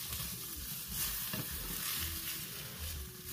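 Pork chops and zucchini are stirred in a hot pan, a close, continuous sizzle with scraping and shuffling movement throughout.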